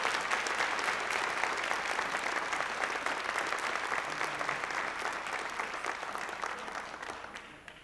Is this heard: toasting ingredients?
no